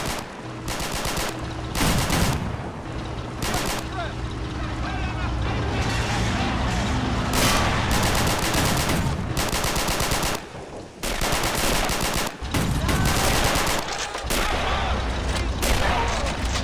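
Bofors anti-aircraft gun and small-arms fire in the war strategy game Men of War: Assault Squad 2, British fortress battle, with sustained heavy repeating gunfire, sharp loud bursts and brief pauses, close and continuous throughout.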